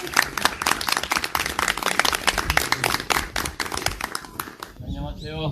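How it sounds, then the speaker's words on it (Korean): Lively audience clapping welcomes a Buddhist monk lecturer at a public humanities concert broadcast in Namwon. The claps are steady and fill the whole stretch, and a voice comes in at the end. "여러분, 뜨거운 환영의 박수로 맞이해 주시기 바랍니다"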